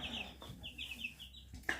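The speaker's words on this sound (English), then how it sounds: "I have baby chickens again" High, thin peeping from small chicks, several quick chirps in a row with a sharper peep near the end, fairly close.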